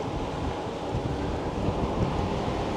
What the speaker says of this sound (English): The wind is horrible today.